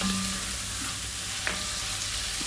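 Chicken tossed with spices in a frying pan, a steady broadband sizzle with faint scraping stirs, close and continuous throughout.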